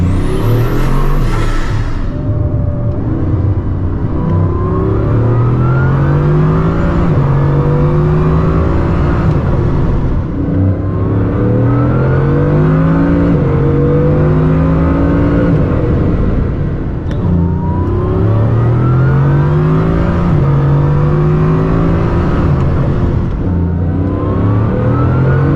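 Bugatti Chiron Super Sport accelerating hard, a loud continuous engine roar with rising gear pulls, each one climbing in pitch then dropping at the shift, repeated twice across the run.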